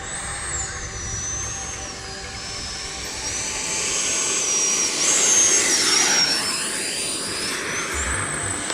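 An FMS Rafale 80mm electric ducted-fan RC delta jet makes a touch and go, its steady high-pitched whine holding throughout and swelling slightly as it passes nearer midway, with no talking.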